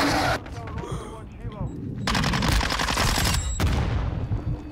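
Bursts of automatic gunfire ring out in Call of Duty: Modern Warfare II, loud rapid volleys from a MINIBAK submachine gun loadout, with game sound effects around them.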